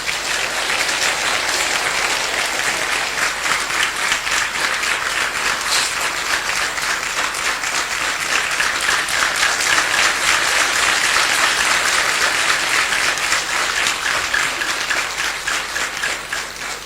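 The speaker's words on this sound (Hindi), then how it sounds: "मैं चाहूँ आप सब लोग एक बार जोरदारी से ताली" Dense, sustained applause fills a gathering of a devotional sankirtan group, a thick wash of many hands clapping continuously at steady loudness for well over fifteen seconds with no speech.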